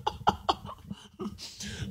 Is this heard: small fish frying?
no